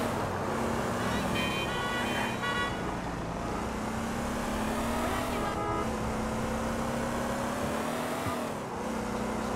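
A car drives through Liberty City in Grand Theft Auto IV, its engine droning steadily with gear-shift pitch rises, tire and road noise underneath, and faint voices.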